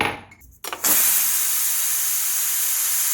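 After a few brief clattering sounds, a pressure cooker lets out a loud, sustained steam hiss that holds steady to the end.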